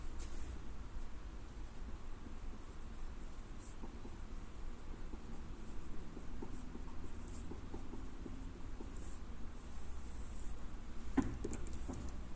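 Pen or marker scratching steadily across paper or a board while the second derivative test is written out by hand, a faint, continuous scribbling texture with small taps, close and quiet, with no talk over it.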